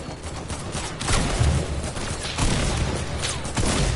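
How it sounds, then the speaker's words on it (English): Rapid gunfire bursts crackle in a Fortnite match, dense and loud throughout with sharper volleys near the start and middle. "Oh, someone's shooting me. Stop it."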